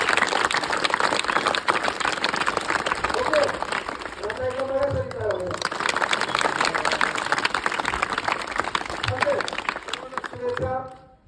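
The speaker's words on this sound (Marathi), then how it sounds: "आपल्या मायबापासाठी जोरदार टाळ्या होत्या." A big school audience at a motivational speech applauds loudly and steadily, with voices briefly calling out over the clapping before it fades at the end.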